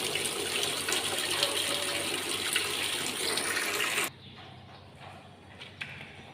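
Water runs and splashes steadily from a tap into a container for ducks for about four seconds, then stops abruptly, leaving faint room sounds and a few small knocks.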